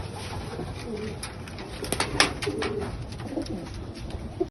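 Racing pigeons coo softly and repeatedly at a loft in San Pedro, Laguna after a training flight, with a steady low background hum and no talking.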